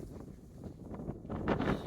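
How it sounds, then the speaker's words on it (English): Steady wind rushing across an open, grassy mountain summit at about 5,587 feet, a soft continuous buffeting that swells louder toward the end with some microphone rumble. "A little windy."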